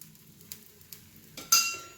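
Oil drizzled over a sprouted moong pancake on a hot griddle gives a faint sizzle with a few soft clinks, then a louder burst of crackling near the end.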